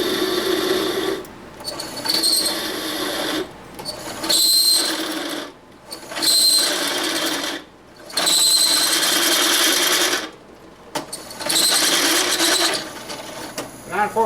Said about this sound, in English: I got this little drill press as low as it'll go for speed